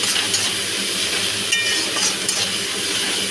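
Onions with chopped tomato frying to a reddish brown in a pan for a Bengali bata fish curry, giving a steady, dense sizzling hiss that holds evenly throughout, close and fairly loud, with no voices.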